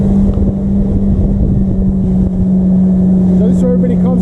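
An old Sea-Doo GTX jet ski engine runs on the water with a steady, fairly quiet droning hum, with wind buffeting the microphone throughout.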